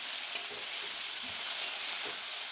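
Veg Maggi noodles fry in a pan with a steady, faint sizzling hiss and a few soft scrapes as they are flipped over from underneath.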